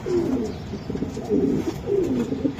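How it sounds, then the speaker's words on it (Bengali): Soft, repeated cooing of racer pigeons, several low throaty calls close by against a quiet background. "এটা কি কবুতর?"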